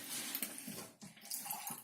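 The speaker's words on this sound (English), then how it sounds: "We add in 4 times the amount of water." Water pours into a cooking pot for an Ayurvedic meal, a continuous splashing gush that runs steadily with a brief dip near the middle, close by and with no talking over it.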